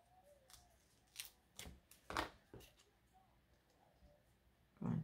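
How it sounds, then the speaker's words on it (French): Scissors snip through card paper to width in a quiet room, a series of short, sharp cuts spaced irregularly, with a soft bump near the end. "je vais tout de suite venir découper la largeur qu'il me faut ici"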